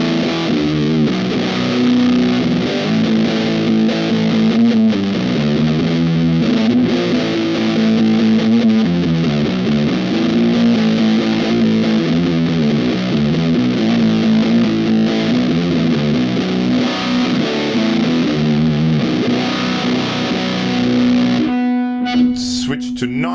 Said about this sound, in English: let's listen to it at the preset setting that you can download, the HUUUUUUUGE Fuzz, which sounds like this.